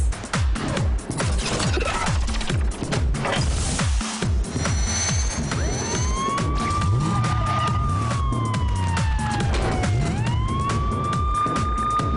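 A loud wailing fire truck siren from a children's cartoon rises and falls over a busy rhythmic background, with the tone sweeping up again near the end.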